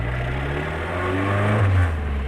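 A cold car engine fitted with Elba Street aftermarket fuel injection idles close by with a low, steady hum, then swells into a short rev near the end before easing back.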